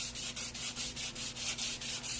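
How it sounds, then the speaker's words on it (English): A wooden pool cue of bird's eye maple is sanded by hand in quick, regular back-and-forth rasping strokes, about nine rhythmic passes, close and moderately loud. "when you're sanding it down, I have to get that roughness"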